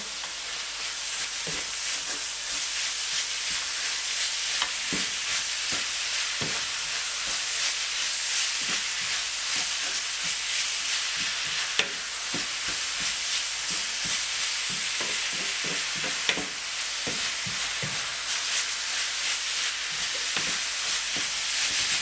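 Bolognese sauce sizzling steadily in a pan while a spoon stirs it, adding scattered scraping clicks over the constant frying hiss. It is close and continuous, with no talking.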